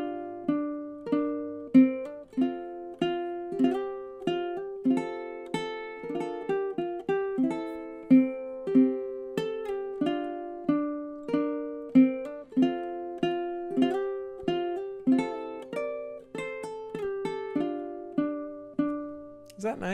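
Ukulele played fingerstyle, the thumb picking single strings and brushing across several, carrying the melody of The Parting Glass in a steady stream of plucked notes, close and clear with no talking.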